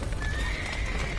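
Horses whinny and neigh in The Witcher 3, the game's animal sounds close and clear, with hooves clip-clopping under a steady high-pitched neigh across the short moment.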